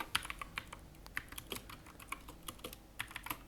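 Code is typed on a computer keyboard in quick, uneven bursts of close, crisp key clicks with short pauses between them, and no voice is heard.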